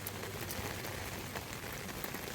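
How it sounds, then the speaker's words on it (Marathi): Rain falls steadily in a forest, a dense, even patter of drops on leaves and surfaces with no voices. "पाऊस लागला सगळीकडे एक वेगळी मजा येतात."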